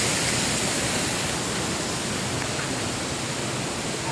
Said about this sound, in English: That's the main ocean at the back portion of the resort.